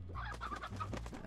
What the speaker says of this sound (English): Chickens are good.